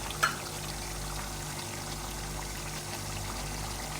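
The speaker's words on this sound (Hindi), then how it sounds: "अब इस स्टेज पे हम इसमें योगर्ट ऐड करेंगे।" Yogurt is poured into a pan of fried spicy chicken wings, making a soft steady pouring and trickling sound under a constant background hum, with a brief louder splash near the start.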